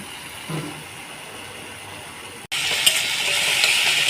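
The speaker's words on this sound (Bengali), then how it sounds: "এবার মশলাটার সঙ্গে একটু ভালো করে কষিয়ে নেব আদা রসুনটা।" Masala with ginger garlic paste frying in a pan for a soybean curry made with coconut milk: a soft low sizzle at first, then a sudden loud, close, steady hiss with light stirring noises.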